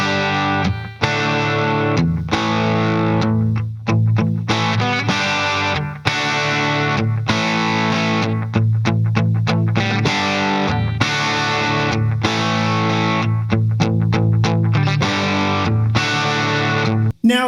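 An electric guitar with a driven analog tone, playing through a JOYO D-SEED delay pedal setup, strums loud rhythmic chords with short choppy breaks between phrases and no talking.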